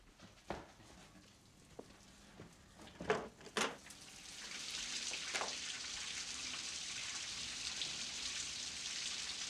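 A few scattered taps and knocks give way to a steady hiss of rainfall that builds and continues evenly to the end.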